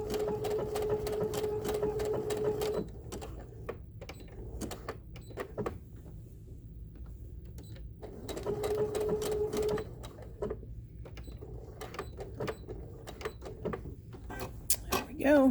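A sewing machine stitches an inside curve on a quilted blossom wall hanging, running in short bursts of rapid even stitching separated by pauses with single advanced stitches and small clicks, fairly quiet and close.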